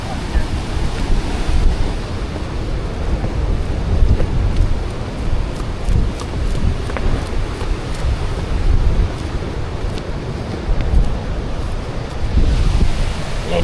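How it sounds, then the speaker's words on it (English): Sea waves surge and splash inside the Rosh HaNikra grottoes on Israel's coast, making a loud, continuous rushing roar with repeated swells and bursts of spray, along with some gusty wind noise on the microphone. "Look at the splashes right there."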